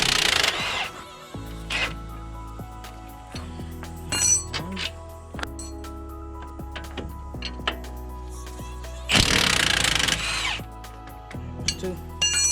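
A power tool spins out strut bolts on a 2011 Toyota Corolla in a strut replacement, firing in short bursts with a steady hum underneath and metallic clinks between, heaviest near the start and again around the ten-second mark, no voices.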